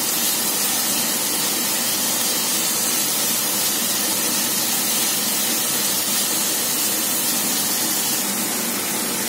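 Cabbage frying in a pan over a high gas flame, giving a steady, even sizzle and hiss that runs unbroken throughout with no talking.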